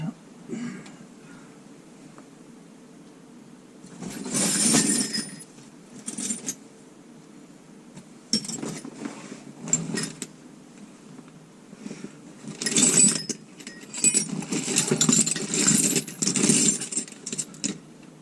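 Metal tools clink and rattle in bursts while someone hunts for a wrench during work on a 1977 FC33 Wanderlodge, with soft shuffling between the jangles and quiet background.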